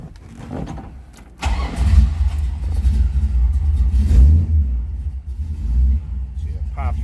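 A 1968 Chevrolet Camaro engine cranks and fires, then settles into a loud, deep rumbling idle with blips of revving, close by.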